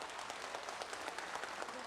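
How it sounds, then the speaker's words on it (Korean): Studio audience applause for a family reunited on a live broadcast about finding separated relatives, a soft, steady patter of many hands held at a fairly quiet level throughout. "여러분 박수 부탁드리겠습니다"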